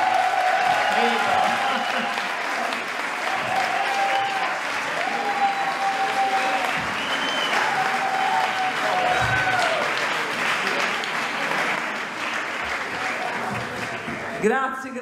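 Loud, sustained applause with cheering from a studio audience at an Italian TV music talk show, a dense steady roar of clapping lasting throughout with a few shouts rising above it.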